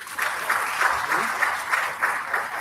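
An audience at the national launch of a waste innovation challenge applauds a speaker, a soft, steady wash of many hands clapping at moderate distance with a faint pulsing rhythm.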